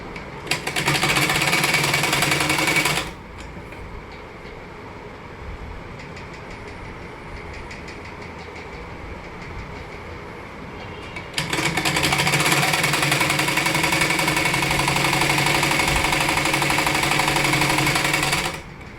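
A sewing machine stitches the folded hem of a salwar waistband, running in loud, fast, rhythmic bursts at start and end with a quieter mechanical stretch between.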